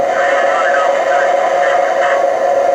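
A basic early-2000s sound-effect horn from an Atlas O-scale model train with TMCC control sounds as one steady, tinny, buzzing blast, loud and unbroken.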